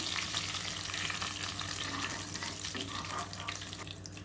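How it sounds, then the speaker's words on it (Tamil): Dried red chilies and curry leaves crackle and sizzle in hot oil with popping mustard seeds, a dense, steady frying hiss that stays loud and close throughout with no voices. "கடுகு பொரிஞ்சோன்னே இப்போ காஞ்ச மிளகாவையும் கருவேப்பிலையும் ஆட் பண்ணிடலாம்."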